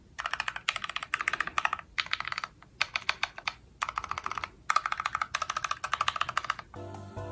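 Quick, close bursts of clacky keystrokes from a Glorious GMMK numpad with stock Fox linear switches, fresh out of the box, come in rapid runs separated by brief pauses, with no talking.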